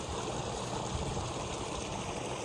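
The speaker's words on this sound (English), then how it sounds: "Check out the creek." Creek water runs steadily over a shallow bed in the Arizona Superstition Wilderness, a close, continuous broadband rush with no pauses.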